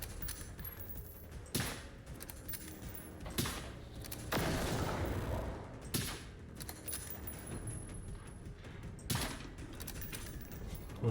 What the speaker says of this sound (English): Literally blowing through all my sniper ammo.